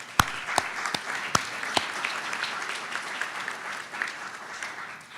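An audience at an ethics-of-caring lecture series session applauds with steady, moderately loud clapping. A few sharp, louder claps stand out near the start, and the sound continues evenly for about five seconds.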